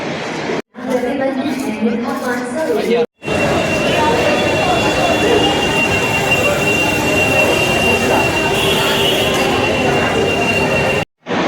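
A train pulls into a modern station platform with a loud, continuous rolling rumble and a steady high whine, broken by a few brief drops. Voices murmur faintly underneath.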